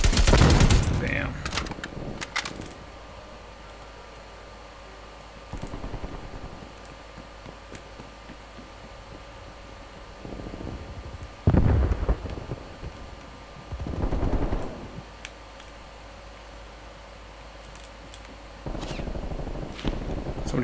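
Bursts of gunfire in the video game Call of Duty Cold War, a loud volley at the start followed by several separate rattling bursts spaced across a quieter hum, some near and some further off.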